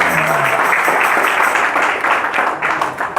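A church congregation claps for the musicians in a sustained, loud round of applause that stays dense and even, with a voice faintly audible beneath it.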